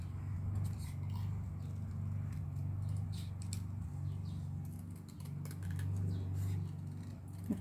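Scissors fussy cutting small card pieces, irregular crisp snips and light paper rustles scattered over a steady low background hum, fairly close and quiet.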